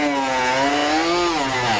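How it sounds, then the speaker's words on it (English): A Dremel rotary tool with a cutting blade cutting through a pliable plastic belly pan on a 2013 Jeep Wrangler, a loud continuous high whine that shifts slightly in pitch as it bites into the material. "I'm gonna use a Dremel tool with a cutting blade."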